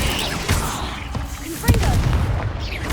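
Incendio fire spell cast in Hogwarts Legacy, a sustained whooshing roar of game flames with a sharper burst near the middle, loud and continuous over ambient game noise.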